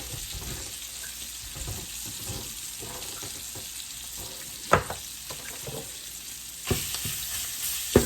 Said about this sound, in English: We're just heating it through and crisping it up